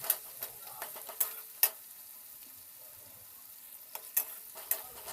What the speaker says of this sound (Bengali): পেঁয়াজ কুচিটাও আমি সামান্য ভাজবো।